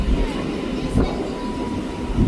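A moving passenger train heard from on board, a steady low rumble with rhythmic wheel clatter and a few brief knocks, loud and continuous throughout.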